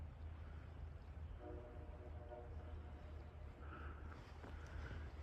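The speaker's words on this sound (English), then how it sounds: "We got the sounds of the trains in the background that are probably about a mile away from here." Far-off trains echoing through a valley at night, with a faint horn sounding twice over a low steady rumble and outdoor ambience.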